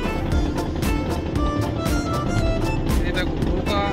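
A boat travels on the Rupnarayan river, its steady engine-like drone mixed with water and wind rush, with faint voices in the background.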